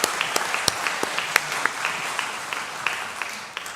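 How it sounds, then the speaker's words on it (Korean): A church congregation gives a round of thanks, with moderate applause made of many hands, some claps sharper and more distinct, holding steady for a few seconds before tapering at the end. "감사의 박수 하겠습니다"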